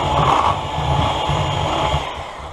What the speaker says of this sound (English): My mixer, it doesn't have a real low setting on this particular mixer